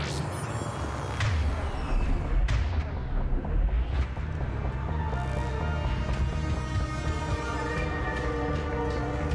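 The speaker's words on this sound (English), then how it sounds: "Explosions is oddly satisfying." Explosions and gunfire-like blasts in the PC game Mass Effect 3, Citadel DLC, heard as dense, loud booming bursts with sharp transients around two and four seconds over continuous rumbling battle noise, with no talk.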